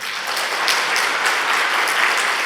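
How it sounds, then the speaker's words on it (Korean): A church congregation at a Sunday afternoon service claps warmly for retiring deacons and elders, a dense, even round of applause filling the whole stretch with no talking. "저희 그동안의 수고를 이렇게 박수로 격려하겠습니다."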